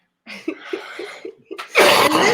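A short run of muffled, rhythmic coughing or stifled laughter bursts, then a loud, breathy rush of noise close by.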